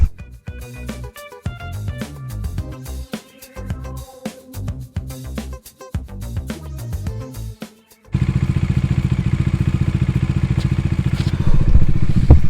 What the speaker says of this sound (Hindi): बाइक स्टार्ट है मेरी